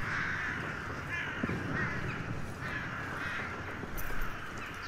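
A crow in the video game Redfall caws repeatedly at a steady pace over a constant outdoor ambient bed, moderately close and fairly loud.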